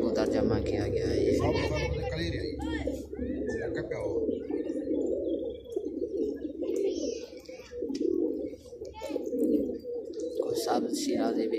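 Large pigeons of assorted colours keep up a low cooing murmur under steady talking, with scattered chirps and soft bird calls rising at intervals.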